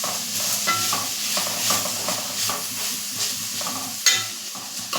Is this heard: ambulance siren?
no